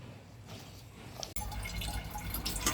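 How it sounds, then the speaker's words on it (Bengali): Cut vegetables such as potatoes, eggplant and flat beans are washed by hand in a bowl of water, with soft drips and sloshing, then a fuller splash and swirling after a brief pause. "এখন সুন্দর করে তরকারিগুলো সব ধুয়ে নেব।"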